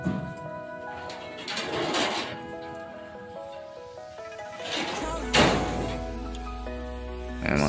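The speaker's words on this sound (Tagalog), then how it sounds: "Ayan mga ibon, ang dami." Pigeons coo inside a busy pigeon loft, soft repeated calls mixed with scattered thumps and rustling, fairly quiet and close.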